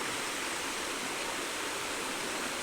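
Water of a stream rushes in an even, continuous hiss, steady and unbroken throughout, with no voices.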